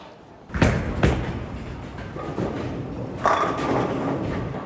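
A Motiv Trident bowling ball rolls down the lane and strikes the pins, giving a loud thud at release, a low rumbling roll, then a second burst of pin impact clatter near the end.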